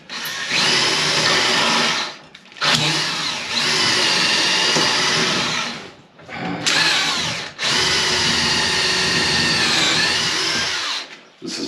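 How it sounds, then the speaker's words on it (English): A corded DeWalt drill bores pocket screw holes through hard Douglas fir construction lumber, running loud and steady in three long bursts with brief pauses between them. "This is Douglas fir, so it's pretty hard to drill."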